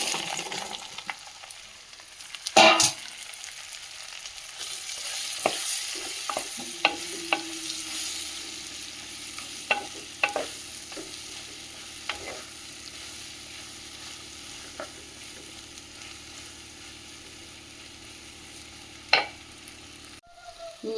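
Chopped mushrooms frying in a clay pot, a steady sizzle with sharp scraping knocks of a spoon stirring through them, a loud clatter early on, continuing alone without voices.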